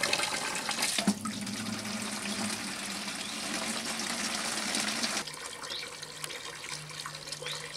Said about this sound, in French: C'est une pompe centrifuge standard immergée de 300 watts.